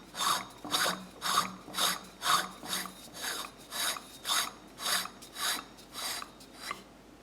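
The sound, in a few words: one-handed threading of a part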